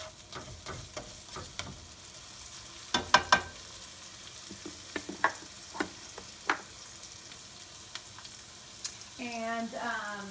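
Khulla keema sizzling in a pan: a soft, steady fry hiss broken by sharp utensil clinks and scrapes, close up, with a brief tonal rattle near the end and no one talking.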